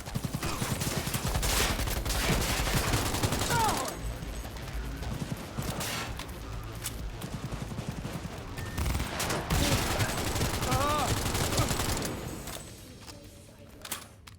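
Dense, sustained gunfire from a firefight in the video game Cyberpunk 2077, with overlapping rapid shots and bursts that run loud and continuous for most of the clip before easing slightly near the end.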